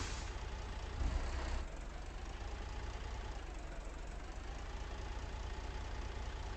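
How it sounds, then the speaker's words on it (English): A big-rig truck engine in the game American Truck Simulator idles steadily at close range, a constant low rumble with a brief swell in loudness early on, no voices present. "Listen to that baby roar."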